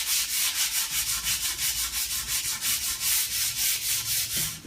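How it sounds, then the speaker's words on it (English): A cabinet door of wood is lightly hand-sanded with 220 grit sandpaper, giving steady, rhythmic back-and-forth rasping strokes, close and fairly loud with no talking. "So using 220, lightly sanding."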